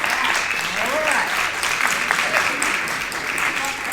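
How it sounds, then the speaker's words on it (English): Steady audience applause at a bike summit, an even, continuous patter of clapping that holds at a moderate level throughout. "I knew that would get applause sometime."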